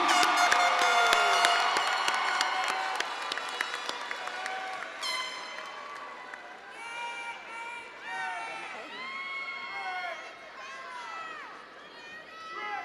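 Crowd applause and cheering at the Southern University spring 2022 commencement, loud at first and then fading as whistles and excited shouts from the audience carry on.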